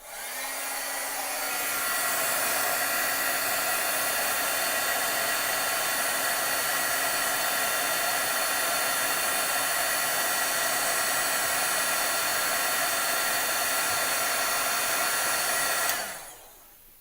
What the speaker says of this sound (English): I'm going to heat it up so it's getting a little noisy